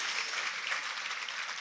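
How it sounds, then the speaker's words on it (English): Audience applause at a community prayer breakfast, a brief, steady patter of many hands clapping at once, moderately loud and even without a voice on top. "Everybody give Kenny a round of applause"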